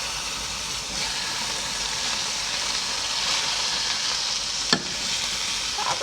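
Butter sizzles steadily in a hot pan for French toast, a dense continuous crackle and hiss held close throughout, with one brief sharp clink near the end.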